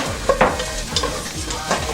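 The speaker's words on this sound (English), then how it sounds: "So I'm gonna have my sous chef mix that together in the bowl." Beef being mixed with Jamaican jerk sauce in a bowl, a soft wet squelching and clacking of stirring in a few quick strokes, close and alone.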